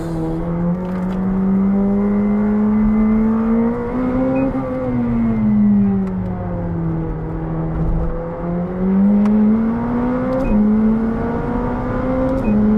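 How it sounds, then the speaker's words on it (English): A McLaren 765LT turbocharged sports car engine drones loudly up close, its pitch rising and falling as the revs climb and drop, with a steady mechanical hum underneath. "It's such an atmospheric engine, which for a turbocharged engine is sensational."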